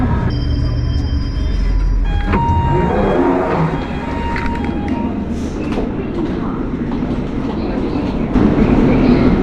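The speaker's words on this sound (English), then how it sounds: "It's my first time taking the underground since I got here." A London Underground train rumbles steadily along the track, with rattling carriages, a metallic squeal and faint voices in the background.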